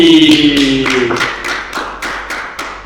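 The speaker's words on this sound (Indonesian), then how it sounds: "Tepuk tangan untuk Bang Randi" Audience applause welcoming guest Bang Randi onto a podcast stage, a steady wash of clapping at moderate loudness with a tonal voice or music fading out early on.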